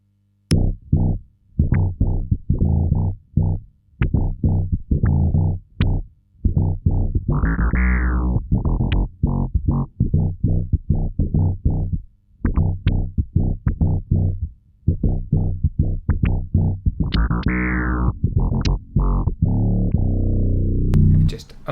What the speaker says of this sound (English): let's have a little play around with this C4 Synth, recreating those synth bass tones on electric bass